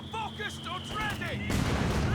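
A mortar shell slams in with a loud broad blast from Company of Heroes 2, arriving after a stretch of voices and game noise and leaving a rumbling tail.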